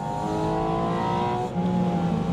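A Porsche 718 Spyder RS engine revs hard and steadily, loud and close, its harmonic drone shifting pitch briefly partway through.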